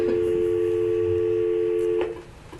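Telephone dialing tones placed from a borough assembly meeting to reach members joining by phone: a steady two-tone dial signal with a low hum beneath it, fairly loud, ending abruptly near the close.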